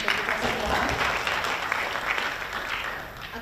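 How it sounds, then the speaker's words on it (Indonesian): A conference audience at an anniversary linguistics event claps together, a dense, steady wash of applause from a large crowd in a hall, holding at even loudness for several seconds. "Jadi kita tepuk tangan untuk kita semua."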